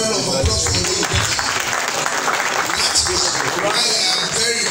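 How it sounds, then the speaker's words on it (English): A crowd applauds at a traditional Ife music celebration in Nigeria, a steady, dense wash of clapping that fills the whole stretch at even loudness with no break. "Please, let us have a round of applause for you."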